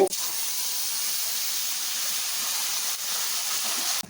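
Grated bottle gourd poured into hot tempering with crushed dried red chillies, giving a steady, loud broadband sizzle that holds evenly for about four seconds before cutting off abruptly.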